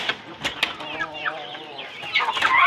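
A pet rooster let loose, clucking and fluttering in short bursts close by, with voices talking over it and a louder flurry near the end.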